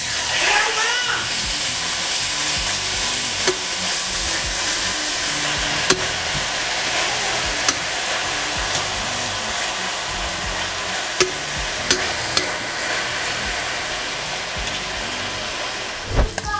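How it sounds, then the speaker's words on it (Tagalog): Beef frying in a pan, a steady dense sizzle like rain, with occasional utensil clicks and taps over the continuous hiss; cooking sounds carry throughout. "Ngayon guys, prituhin na natin tong ating beef."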